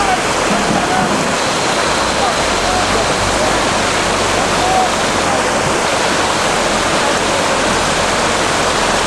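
Floodwater rushes over a flooded river crossing in a steady, loud, broadband roar that does not let up, like a close waterfall, with a voice faintly audible beneath the torrent.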